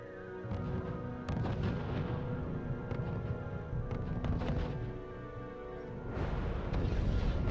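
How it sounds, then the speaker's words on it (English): Artillery and assault gun fire in the RUSE strategy game, a continuous barrage of booming shots and sharp bursts overlapping in a dense, loud battle soundscape with no talk. "Too much artillery and assault guns coming by."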